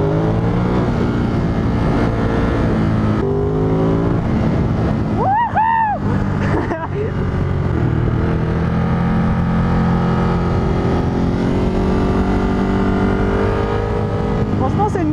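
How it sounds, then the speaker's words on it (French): A Ducati Monster 937 motorcycle of about 111 horsepower revs hard and accelerates, its engine note climbing and dropping through gear changes, close and loud throughout. "C'est très puissant cette moto"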